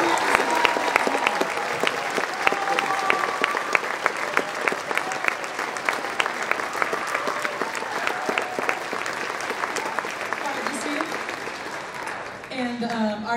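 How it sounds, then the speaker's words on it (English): Sustained, dense applause from an audience honoring honor band students, loud and even for most of its length before easing near the end, when a voice begins speaking. "Let's give them a big round of applause."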